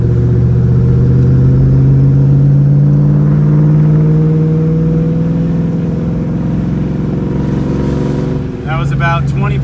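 A 2004 Ford Mustang Cobra with new coil packs and spark plugs accelerates in third gear at very light throttle, its loud, close engine drone climbing smoothly in pitch, with a brief rattle near the end.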